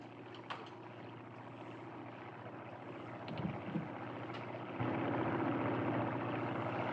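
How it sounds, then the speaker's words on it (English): A propeller airplane passes overhead as a steady, broad drone that swells slightly louder toward the end, with no talking over it. "Look, that airplane up there."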